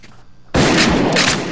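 Gunfire in a one-on-one video game duel: a sudden loud blast cuts in after a quiet lead-in, followed by a sustained dense burst of shots with a couple of sharper peaks.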